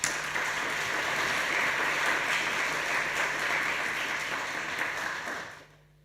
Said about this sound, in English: I think we give an applause to Katrin once more